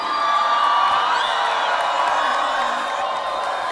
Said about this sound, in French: Vous entendez la foule?